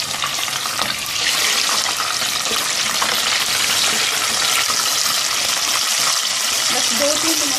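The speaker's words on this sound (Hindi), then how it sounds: "अब इसी तेल में ये मिर्चें फ्राई करेंगे।" Green chillies fry in hot oil, making a loud, continuous crackling sizzle up close that swells slightly after the first second and then holds steady.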